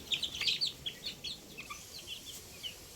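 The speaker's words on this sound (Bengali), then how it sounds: "মুরগিগুলোকে এখন ছেড়ে দেওয়া হবে মুক্ত পাখি" Egyptian Fayoumi chickens cluck and squawk in quick, scattered bursts as they are released, busy and close, with no one speaking.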